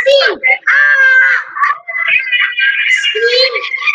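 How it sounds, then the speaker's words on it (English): A young child in an online playgroup class screams loudly and at length, a series of high, wavering, sustained cries with brief breaks. "don't forget to scream"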